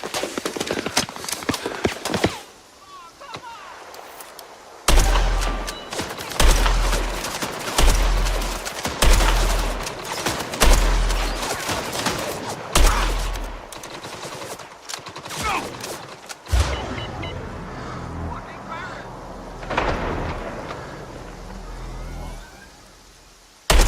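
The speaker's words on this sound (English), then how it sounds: "They were shooting the fuck out of me right there." Gunfire in the video game Mindseye crackles in dense bursts and repeated heavy thumps, mixed with engine rumble and other game noise. The volume is loud and shifts throughout.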